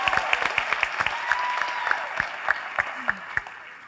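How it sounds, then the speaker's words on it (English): Theatre audience applauding after a melodrama show, a steady wash of clapping with a few sharper individual claps standing out, moderately loud and close, with no voices over it. "Please give them a round of applause."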